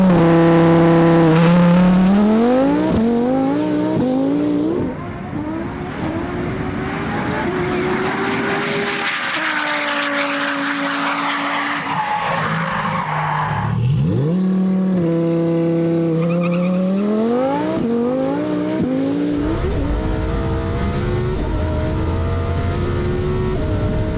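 A 1,400-horsepower all-wheel-drive drag car on billet wheels and drag radials at a drag racing event. Its engine revs loudly and close in rising, wailing sweeps, with a roaring launch midway and more climbing revs after it.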